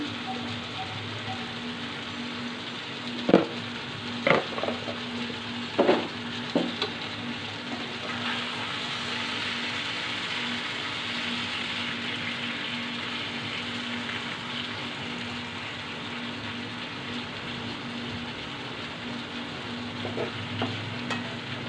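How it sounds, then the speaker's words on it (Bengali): Eggplant frying with egg and a little cumin powder is stirred in a pan, a steady soft sizzle under sharp scrapes and knocks of the spatula in the first seconds, then a quieter continuous fry. "হয়ে গেল আমার বেগুন ভাজা সাথে ডিমও দিয়েছি"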